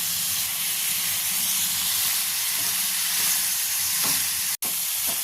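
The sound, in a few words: spice paste frying with a little water in a pan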